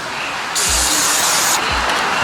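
Aerosol oil sprayed onto a foam air filter from a long-stored Yamaha Tri-Z, one sustained hissing burst of about a second, loud and close, with no talk.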